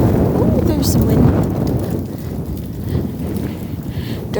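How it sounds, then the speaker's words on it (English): Outdoor wind on a walk in Spryfield, Halifax, Canada, buffeting the microphone as a loud continuous low rumble with gusty swells throughout. "there's some wind"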